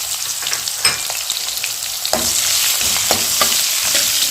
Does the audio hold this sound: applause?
no